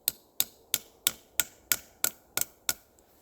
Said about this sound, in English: get out your trusty hammer